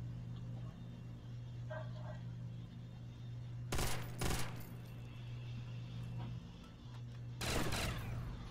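MG42 machine gun fire in Call of Duty: World at War zombies mode on a nightclub map, two loud bursts of rapid gunfire over a steady hum of game background.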